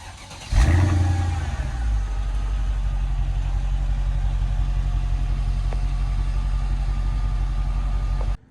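An AMG car engine with a resonator-delete exhaust starts with a sharp burst, then settles into a deep, rumbling idle with a throaty exhaust note that holds steady until cut off.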